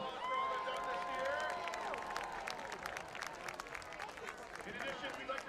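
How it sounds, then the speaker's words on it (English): A stadium crowd at a high school football game applauds the cheer and dance teams, a broad wash of clapping and cheering under an announcer's voice, with a few musical tones fading early on. "Give them a big round of applause for all they've done this year"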